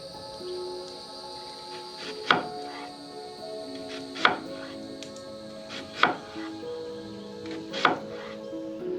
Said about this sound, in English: And then we got some white onion. Now this I'm going to chop up very fine.